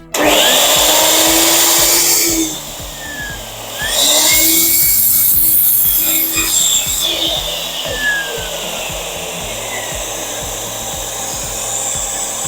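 A loud DeWalt DW777 miter saw whines and bites through wood, dropping briefly mid-cut, then winding down into a lower hum with faint rattles.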